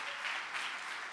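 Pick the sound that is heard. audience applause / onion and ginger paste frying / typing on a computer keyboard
audience applause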